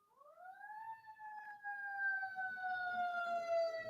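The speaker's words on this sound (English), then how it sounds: "a siren's going to pass and it's going to annoy me" An emergency vehicle siren sweeps upward and then holds a steady, slowly falling wail, clear and fairly loud as it passes, with faint low background noise underneath.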